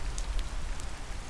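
Steady rain falls on a surface in a soft, continuous wash with faint scattered drop ticks, low and even, with no voices.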